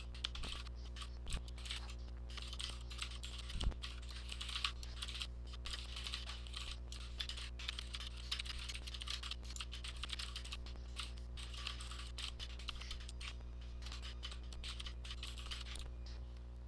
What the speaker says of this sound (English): And now let me just type that out.